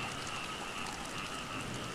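Rain falling at night outdoors in a rural Thai setting, a steady, dense hiss of drops spread evenly throughout, fairly close and continuous with no talking.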